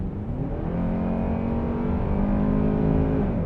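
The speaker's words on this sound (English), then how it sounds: "I'm gonna hit the accelerator here" A 2026 Kia K5 EX engine revs up steadily, its low drone rising in pitch over a few seconds as the car accelerates, loud and close with no talking.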